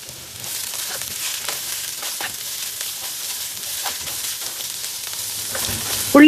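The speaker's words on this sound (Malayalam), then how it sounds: "വലിയ ഉള്ളി ഇതും കുറച്ച് കരുവേപ്പില, ഫുള്ളായിട്ട് ഇടണ്ട, കുറച്ച് കരുവേപ്പിലയും കൂടെ ഇട്ടിട്ട് വീണ്ടും നന്നായിട്ട് ഇളക്കാം." Sliced big onions and curry leaves frying in a pan for Kerala-style soya chunks varattiyathu, a steady broad sizzle with occasional stirring scrapes, fairly loud and close, ending in a sharp clatter.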